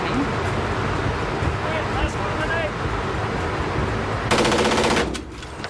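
Fully automatic AR-15 rifle fire from a gun-fail recording, a loud sustained rattle of rapid shots that ends abruptly in a sharp burst of noise near the end, with commotion behind it.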